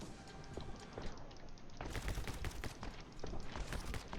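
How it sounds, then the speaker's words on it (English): Rapid gunfire from the video game My Friend Pedro crackles in dense bursts over a constant background, getting fuller and busier in the second half, with no clear talking. "Like bullets flying everywhere."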